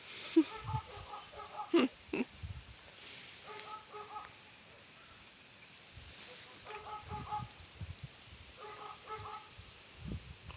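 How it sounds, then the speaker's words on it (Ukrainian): Domestic ducks grazing in a village garden by an old raspberry patch give several short bursts of nasal quacking and honking, moderately near, separated by quieter stretches of rustling and faint background noise. "Пасуться собі качечки."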